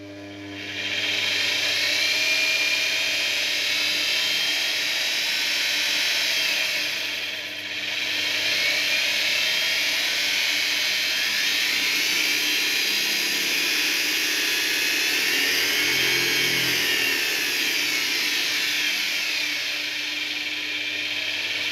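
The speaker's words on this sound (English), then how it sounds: "when you drill in it or load it up, the thing will bog down and lose a lot of speed" High-pitched whine of a homemade lathe's small motor spinning steadily, dipping briefly in speed as it bogs down under load, with grinding mechanical noise throughout.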